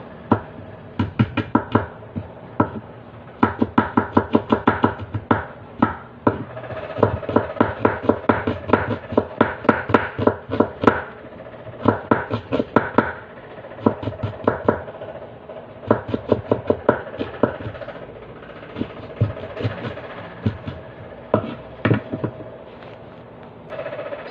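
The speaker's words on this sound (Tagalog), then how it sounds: "Siyempre habang nakababad po ay hiwa-hiwain natin yung sibuyas." A knife slicing an onion lengthwise on a cutting board, with steady rhythmic chopping strikes in quick bursts, close and fairly loud, repeating throughout with short pauses and no voices.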